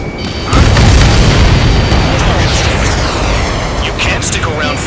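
Missile explosion destroying a ground target in the Ace Combat 7 flight game, a heavy booming blast that rolls on under game music and radio chatter.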